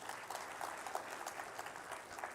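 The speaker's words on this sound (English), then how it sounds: "let's give him a big round of applause" An audience at an AI conference in Kakinada applauds a speaker, with a brief, faint, even spread of many hands clapping at a distance.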